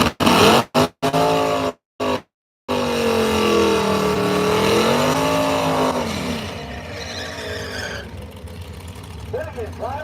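A 1955 Chevy drag car does a burnout at a drag strip, its engine revving and roaring loudly with rising and falling pitch, cut by brief gaps at the start and fading off near the end.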